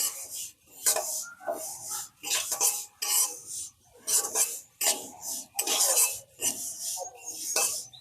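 Sesame seeds with a spoonful of ghee are stirred in a pan, making rhythmic scraping, rasping sweeps of a spoon against metal in regular bursts with short pauses, close and clear.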